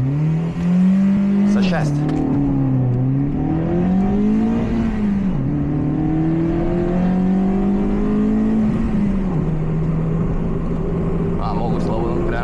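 A Citroën C2 VTS race car engine revs hard at launch, its pitch climbing and dipping through several rising sweeps over about twelve seconds, loud and close, with brief squeals and a voice speaking over it.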